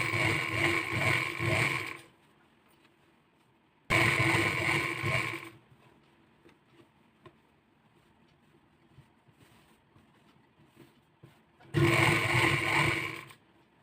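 A sewing machine stitching the side opening of a churidar runs in three separate bursts of roughly two seconds each, a steady close motor whir with quiet pauses in between and no talking.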